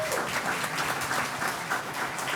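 Audience applause fills a room during an evening disability pride celebration, steady dense clapping throughout, fairly loud and close, with no talk over it.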